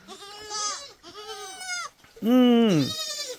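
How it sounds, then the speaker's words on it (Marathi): Kathiyawadi goat kids on a farm bleat three times in close succession, the last cry loudest and longest, heard up close with no talk over them. "काठेवाडी शेळ्यांचे हे पिल्लं आहेत इकडे बघू शकता तुम्ही"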